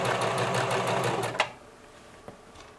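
A sewing machine runs in a steady, rapid rhythmic stitch through fabric, loud and close, then stops abruptly about halfway through, leaving quiet room tone with a faint click.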